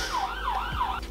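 A wailing emergency siren sweeps up and down a few times, moderately distant, ending with a brief sharp noise.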